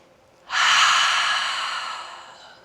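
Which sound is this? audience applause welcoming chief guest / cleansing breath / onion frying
cleansing breath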